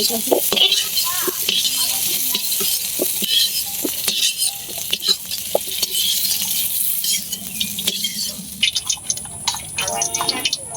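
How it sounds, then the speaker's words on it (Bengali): Potatoes frying in oil in a pan while being stirred, giving a busy crackling sizzle with scraping and clattering strokes throughout, fairly close, with some talk mixed in. "আলু ভাজা হয়ে গেছে আলু নামে"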